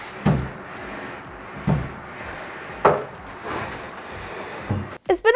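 Chairs fitted with furniture gliders slide across the floor in several short scrapes and bumps, each a brief woody rub, spaced about a second apart and moderately close.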